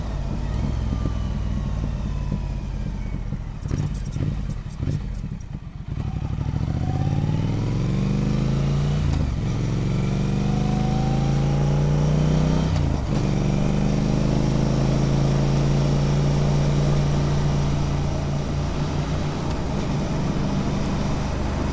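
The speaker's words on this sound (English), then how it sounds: "My exhaust bleeding through the comms." A motorcycle exhaust comes through a rider's intercom, first as a steady engine note, then a short burst of clattering wind noise. After that come repeated rising rev sweeps as the bike accelerates through the gears, loud and continuous.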